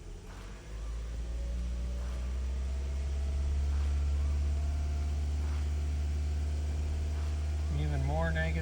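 A 2014 Ford Fusion engine with a running fault idles with a close, steady low hum, then rises slightly in pitch as a little gas is given, holding a raised drone toward the end.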